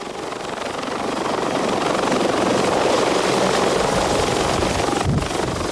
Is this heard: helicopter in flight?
yes